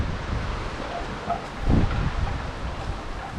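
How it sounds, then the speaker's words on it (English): Wind gusts through a garden in a steady broadband rush with a brief stronger gust midway, buffeting the microphone. "if you look at the wind blowing through at the minute, through the garden"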